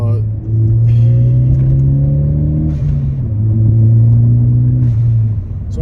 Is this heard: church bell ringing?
no